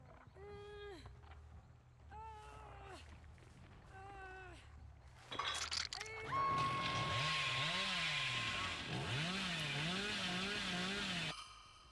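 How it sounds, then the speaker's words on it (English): Chainsaw revving in the video game Dead by Daylight, starting midway after several short, repeated tonal calls and then droning loudly and continuously with wavering pitch until it cuts off near the end. "he should be able to get the chainsaw off here"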